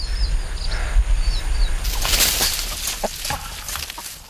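Chickens cluck and squawk while wings flap in a sudden noisy flurry, with scuffling movement close by.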